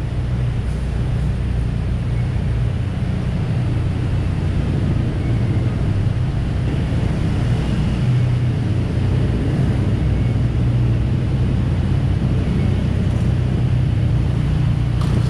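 Dense, steady rumble of gridlocked road traffic on a Bangkok street near the Nana area and the overhead Skytrain line, a continuous low engine drone with no clear gaps or individual passes, heard alone without speech.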